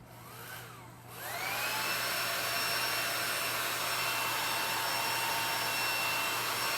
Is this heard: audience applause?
no